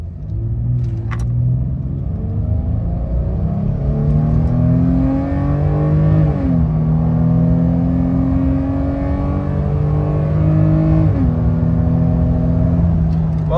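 A 2022 Nissan Frontier pickup fitted with a cold air intake accelerates at full throttle, its engine note climbing steadily through two gear shifts as the loud, continuous drone rises in pitch.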